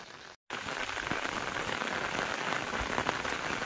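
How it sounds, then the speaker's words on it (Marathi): Rain pours steadily at a hilltop fort, a dense even patter on surfaces after a brief cut of silence at the start. "पाऊस पण पडायला आहे बघा."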